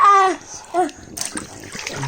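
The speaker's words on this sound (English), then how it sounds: "He's gone into the water." A person plunges into water on a dare, a short splash and slosh coming after excited voices, with chatter continuing as the water settles.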